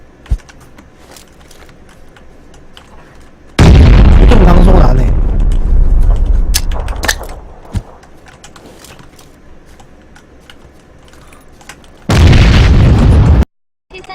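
Grenade explosions in the PUBG (Battlegrounds) video game roar as loud, sustained booming blasts, one lasting several seconds and another near the end, with someone talking in between.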